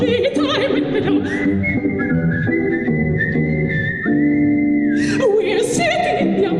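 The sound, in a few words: whistling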